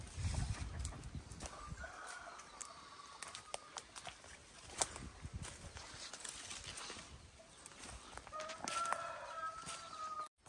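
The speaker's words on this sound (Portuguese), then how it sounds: "Chama a galinha para ver se elas vêm." Chickens on a banana farm of banana nanica plants, with short clucking calls and a rising crow-like cry near the start and again toward the end, over steady outdoor background noise.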